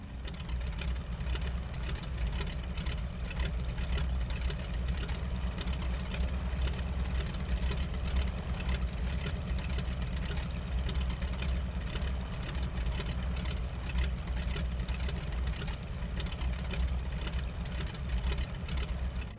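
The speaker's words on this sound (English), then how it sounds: "The deep, loud rumble of the R1340 engine sounds unlike any other radial engine I've heard in FSX" The R1340 radial engine of a T-6 Texan in the FSX flight simulator, a deep, loud, steady rumble that holds an even drone throughout with no talk.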